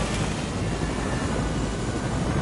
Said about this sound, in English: Let me fly the helicopter, please.